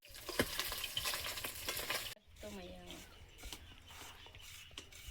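Fish frying in a pan in a home kitchen gives a soft, steady sizzle with stirring scrapes, quiet and close. It breaks off briefly midway and then resumes, with faint voices in the background.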